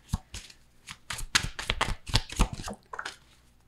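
Tarot cards are shuffled and drawn by hand, a quick run of riffling bursts and soft slaps heard up close and alone.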